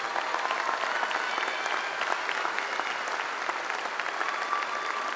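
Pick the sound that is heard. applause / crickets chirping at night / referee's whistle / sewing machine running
applause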